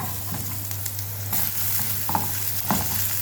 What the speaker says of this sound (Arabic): تشويحه، مش هنحمره، تشويحه يا دوبك البصله تتدبل